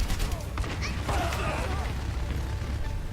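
Gunfire in the Overwatch video game comes as quick bursts of shots and mechanical clatter early on, followed by a lower, steady rumble of game action. A voice speaks over the sounds.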